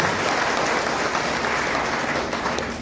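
Crowd applause at a meeting of Jal Mitra water workers in Hojai, Assam, a dense, steady burst of many hands clapping that holds for a few seconds and begins to fade at the end.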